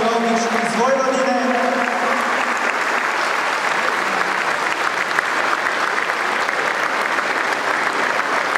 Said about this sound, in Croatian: Molim vas još jedan veliki aplauz za Martinu Lovnić iz Vojvodine.